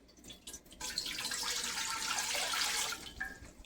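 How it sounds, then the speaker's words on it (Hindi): About a litre of water gushes into a cooking pot on a stove for aloo gosht, a steady splashing pour lasting a few seconds before trickling off, close and clear. "और 1 लीटर पानी ऐड करते हैं।"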